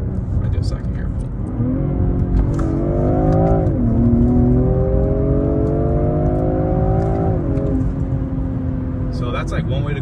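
BMW M340i inline-six accelerating hard through a manually shifted pull on a street, heard from inside the cabin, with a rising engine note, a gear change around the middle, another climb, then easing off, while a person speaks over it.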